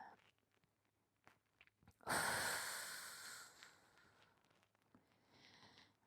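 Close breathing while holding a quad stretch: a few small sniffs and soft breaths, then one long, loud exhale that tapers off, ending in quieter breaths.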